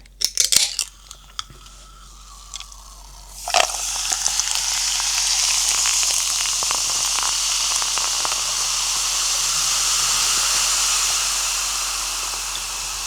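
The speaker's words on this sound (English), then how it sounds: "This soda's always very fizzy, like it's shooting out of the glass" Canned soda poured over ice fizzes into a glass, a steady close crackling hiss that starts after a can is cracked open with a few clinks and keeps going strongly to the end.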